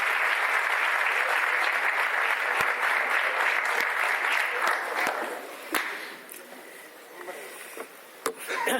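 An audience at a lecture in Granada applauds a speaker, a sustained dense wash of clapping that thins out after about six seconds into scattered claps and small noises.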